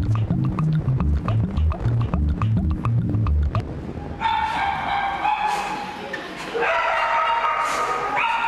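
Several dogs bark in a dog hotel kennel, a rapid burst of loud, close yaps and woofs for about four seconds, followed by quieter whining and higher-pitched tonal sounds.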